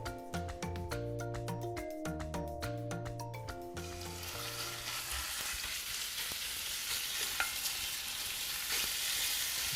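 Meat frying in toasted sesame oil in a hot pan, a steady close hiss and crackle that fills most of the stretch after a burst of tonal background music at the start.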